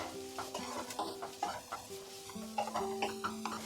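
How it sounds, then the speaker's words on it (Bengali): Carrot, cauliflower and green chili fry in a hot pan, giving a steady, close sizzle broken by frequent stirring scrapes and light clinks, with no talking. "এবার এই সবজিগুলোকেও আমি একটু ফ্রাই করব।"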